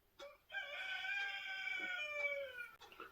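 A rooster crows once in a long, drawn-out call on a spring day with rain, moderately distant and clear over a quiet background, with a few faint clucks around it.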